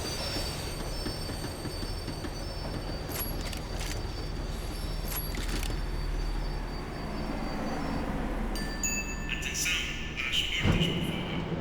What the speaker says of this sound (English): The tram was slowing down.